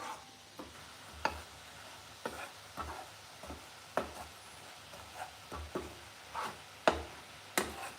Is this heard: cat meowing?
no